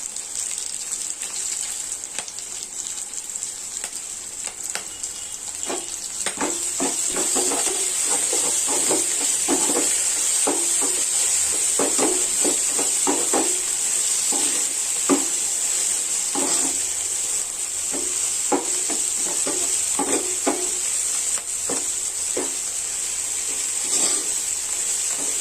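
Onions, curry leaves and coriander sauté in a pan for a fish curry, giving a steady hiss with scattered crackles and pops. The hiss is close and continuous, with no voices.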